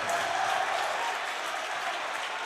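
Basketball crowd at a boys' high school game in Kaukauna cheering and applauding, a steady dense wash of clapping and shouts that stays loud and close throughout.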